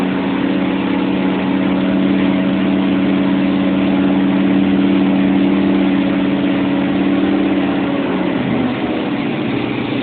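An engine on a dyno runs continuously with a constant low hum, its pitch dipping slightly near the end as the load comes on.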